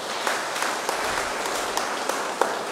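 A church congregation applauds at Mass during a novena, a steady, moderately loud patter of many hands with a few sharper claps standing out near the end.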